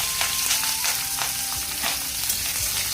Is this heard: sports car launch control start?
no